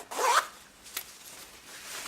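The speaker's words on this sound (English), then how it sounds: "Now I close my zipper" A zipper on a pair of skinny jeans is pulled closed in one quick, bright zip, close up, followed by a faint tick and quiet handling.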